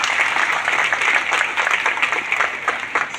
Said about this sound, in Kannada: ಆ ಎಲ್ಲ ಶರಣರಿಗೆ ಒಂದ್ಸರಿ ಜೋರಾಗಿ ಚಪ್ಪಾಳೆ ತಟ್ರಿ.